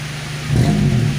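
A Daihatsu Charade 1.3 engine idles with a low steady hum, then its revs rise briefly and the note swells louder before easing off slightly, heard up close.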